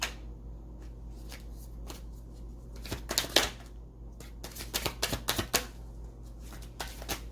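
A deck of cards is shuffled up close for a card reading, producing quick riffling bursts and soft slaps that cluster into a busy flurry midway through, over a low steady hum with no talking.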